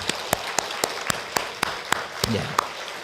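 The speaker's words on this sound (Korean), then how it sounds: "박수 한번 격려해 주시기 바랍니다." A church congregation claps in applause, a run of sharp, fairly evenly spaced claps over a low murmur of voices, close and moderately loud.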